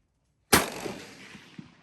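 A single sharp, loud rifle shot from an M1895 Chilean Mauser at an outdoor range, cracking out after a moment of silence and trailing into a long, fading echo.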